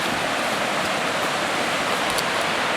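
Melamoose Creek rushing near the South Fork Clackamas River in Oregon, a steady, loud broadband wash of flowing water that holds constant throughout, with no voices.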